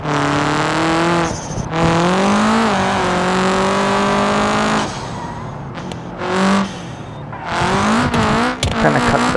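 A car laps a race track in BeamNG.drive, its engine revving hard through rising and falling gear pulls, with brief lifts and dips in between and sharp bursts of acceleration near the end.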